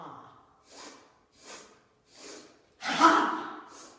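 Breath of joy breathing pattern: three short, sharp nasal sniffs spaced evenly, followed by a loud, forceful open-mouthed exhaled ha, close and clear with no talking.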